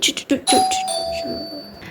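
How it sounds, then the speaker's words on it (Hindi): A house doorbell rings in the middle of the night, around four in the morning: a bright electronic chime with a sustained ringing tone, heard up close and loud after some brief earlier sounds. "रात के 4 बजने वाले और अभी घर की घंटी बजी है"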